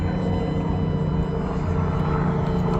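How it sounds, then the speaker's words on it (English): A micro RC F16 model plane rolls at full throttle, giving a steady buzzing motor whine with a constant, slightly wavering hum at moderate loudness. "Let me try to put some more throttle on a roll."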